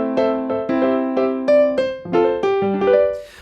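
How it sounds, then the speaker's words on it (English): A piano instrument loaded in the Logic DAW plays a short sequence of clear notes and chords in a steady rhythm, loud and dry with no talking. "I have a piano pulled up, sounds like this."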